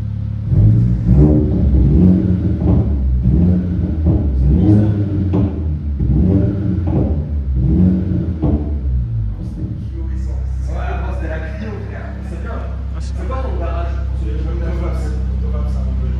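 A BMW 325d E90 diesel with a stage 1+ tune and full stainless exhaust revs hard in repeated loud bursts, then settles to a deep rumbling idle while people talk nearby.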